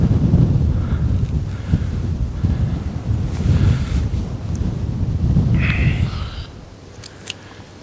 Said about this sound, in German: Also hier weht das ganz schön mächtig.